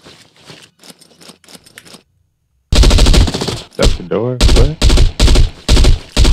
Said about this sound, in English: You just got shot at.